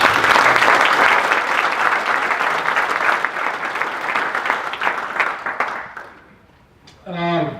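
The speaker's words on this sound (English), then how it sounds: "I'd like to have a round of applause for all of them" Audience at the ASA Education Symposium gives a round of applause: dense, loud clapping that gradually thins and fades out after about six seconds, then a voice begins speaking.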